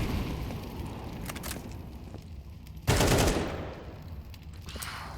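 Gunfire in a Counter-Strike match on the Anubis map at a pro esports event, with bursts of rapid automatic shots and a loud, sustained volley near the middle, no voices over it.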